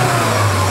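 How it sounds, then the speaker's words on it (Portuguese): A Volkswagen Saveiro G3 engine, previously misfiring, runs steadily at idle up close, a continuous low hum with a strong, even drone and no talk. "aqui o motor funcionando, aquela falha que ele se queixava sumiu"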